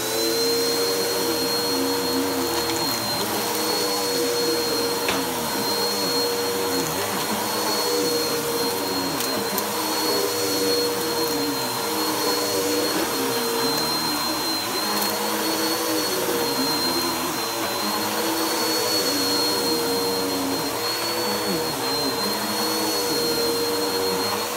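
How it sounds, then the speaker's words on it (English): A household vacuum cleaner runs continuously and loudly for the whole stretch, a steady motor whine with a sustained high tone and shifting low suction noise as it is pushed about. "I'm gonna do a natural vacuuming."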